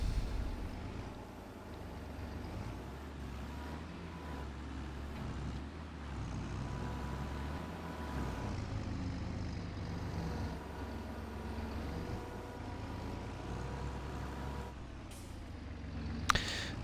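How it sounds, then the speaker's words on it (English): A tractor at work in Farming Simulator 22 during autumn forage harvesting, its engine giving a steady, continuous low drone with a mechanical hum, holding even throughout with a brief sharper burst near the end. "The tractor is up to the task."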